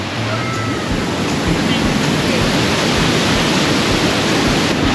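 The Tad Kuang Si waterfall near Luang Prabang, Laos, roars continuously, a loud, dense rushing wash with wind buffeting the microphone.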